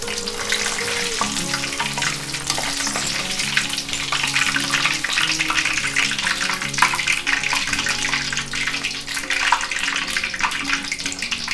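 Cauliflower florets fry in oil, which sizzles and crackles loudly and steadily, with dense spitting pops throughout from water hitting the oil, and no talking.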